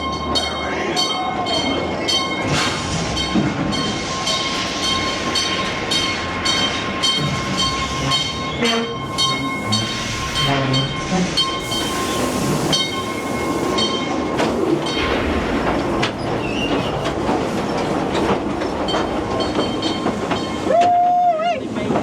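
A mine train ride at Knott's Berry Farm rumbles steadily along rails with a dense, continuous roar and rattling, a whistle-like tone sounding near the end, with voices faintly mixed in.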